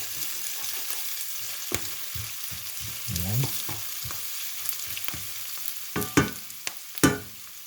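Fermented fish (burong isda) being stirred while sautéing in a pan, a steady soft sizzle broken by repeated scraping strokes of the spoon, close and fairly quiet.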